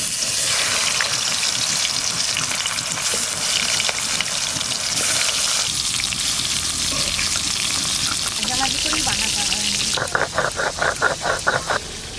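Fish fried in oil with ginger-garlic paste, cumin and coriander, a large Odisha sea diamond pomfret, gives a loud, steady, crackling sizzle throughout, ending with a quick run of rhythmic stirring scrapes.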